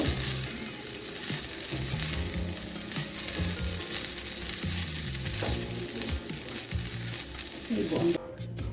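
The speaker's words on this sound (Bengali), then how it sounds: "দিয়ে আমি দু মিনিটের মতো নারকেলটাকে একটু ভেজে নেব" Grated coconut, two cups of it, fries and gets stirred in a pan over low gas, giving a steady close sizzle with scraping spoon strokes throughout and a brief clatter near the end.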